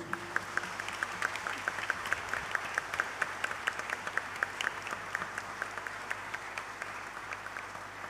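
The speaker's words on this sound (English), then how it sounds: "Let us now welcome our bishop with a big round of applause" A congregation applauds Rt. Rev. John Rodrigues at his installation ceremony as Bishop of Poona. The clapping is fairly faint and distant but sustained and even, with a faint regular pulse running through it.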